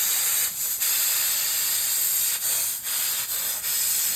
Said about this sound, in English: it is so damaged by the steam, it is over.